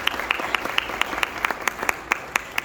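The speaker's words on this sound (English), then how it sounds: "Let's start with giving a round of applause for Fred and Katie, who have volunteered." A tech conference audience at an Agile DevOps metrics session gives a round of applause: a light, steady clapping from a small crowd, with sharp individual claps standing out.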